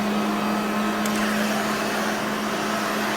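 A carpet cleaner's suction runs steadily, a loud continuous whooshing roar with a fixed low hum, close and unbroken throughout.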